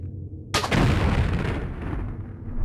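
A single heavy explosive-ammo shot at a skeleton in Tomb Raider 4, a sudden loud booming blast that rolls on with a long rumbling decay, with no talking.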